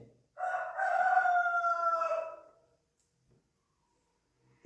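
A single rooster crows once at midday, a clear drawn-out cock-a-doodle-doo of about two seconds, fairly close, then silence.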